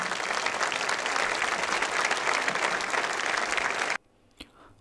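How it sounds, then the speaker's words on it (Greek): Warm audience applause at a traditional Epirus music event in Vella, greeting a master musician; dense, even clapping for about four seconds, then it stops abruptly, leaving near silence with a single faint knock. "Θερμό χειροκρότημα"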